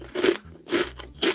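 A crispy snack from a vending machine with a seaweed-like taste is bitten and chewed up close, producing three sharp, crackly crunches in quick succession.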